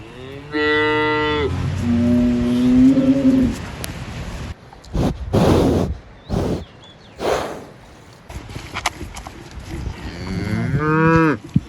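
Several cows low loudly in a mountain meadow near a yurt where eight cows are milked daily, with long harmonic moos at the start and end and softer rustling and faint bird coos between them.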